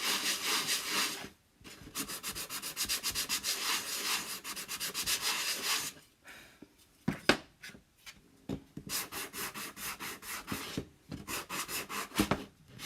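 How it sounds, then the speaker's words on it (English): Sanding the edges of a wooden Christmas block by hand, close and fairly quiet rhythmic rubbing strokes in several bursts separated by short pauses. "I'm going to sand the edges."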